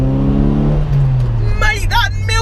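Ford Fiesta ST150 with a Milltek exhaust and induction kit accelerating hard in first gear, a loud close engine note rising in pitch, then a short burst of excited voices over the idle at the end.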